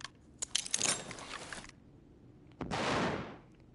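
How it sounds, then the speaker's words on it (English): Flashbang grenade going off in a first-person shooter game round, a cluster of sharp bright bangs and crackle followed after a short gap by a loud, hissing blast that sustains briefly before cutting off. "As you can see, the explosion,"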